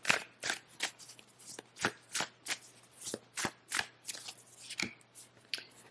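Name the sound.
shuffling oracle cards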